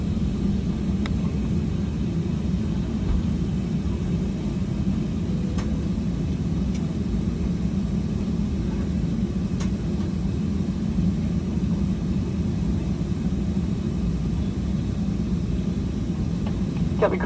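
British Airways A320 airliner pushing back and taxiing toward runway 27 right at London Heathrow, heard from inside the cabin as a steady, loud low rumble of engines with a constant broadband hiss throughout.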